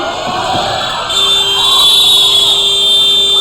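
Halftime buzzer at a boys' high school basketball game, a loud sustained electronic tone sounding over a cheering gym crowd.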